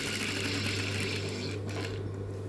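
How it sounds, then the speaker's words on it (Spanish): Sewing machine stitching a pocket seam, a steady close whirring hum with a fast mechanical needle patter, running continuously and alone. "coso por esa costura que tiene el rectángulo que acabo de coser"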